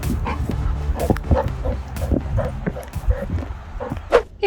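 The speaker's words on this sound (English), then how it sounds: "The dopiest dog." A dog barks in short yips and whimpers close by, several uneven bursts scattered over a few seconds with a faint voice in the background.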